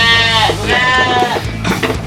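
Sheep bleat loudly and close by in a livestock pen on a village-run fattening farm, several overlapping wavering calls following one another in quick succession.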